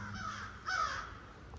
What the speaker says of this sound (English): several crows that are flying around, and they've been quite loud and been flying over the pond